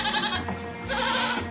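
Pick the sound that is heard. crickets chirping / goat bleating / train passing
goat bleating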